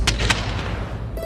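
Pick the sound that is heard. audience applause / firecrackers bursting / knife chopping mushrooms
firecrackers bursting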